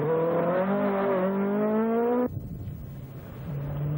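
A 1981 Skoda rally car revs its engine during practice laps on the snowy Francorchamps circuit. The loud, rising engine note cuts off abruptly, leaving faint low rumble and distant engine noise.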